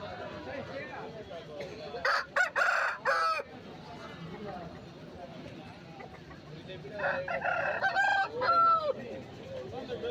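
Roosters crow at a busy village poultry market where birds are sold by weight. Two loud, ragged crows stand out above a constant murmur of voices and background clucking.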